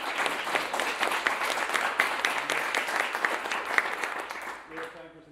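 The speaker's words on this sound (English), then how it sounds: "let's give a quick round of applause." Audience at a customer success meetup in Oakland applauds for about five seconds, a dense steady patter of many hands with a few sharper claps, tapering off at the end as a voice begins to speak.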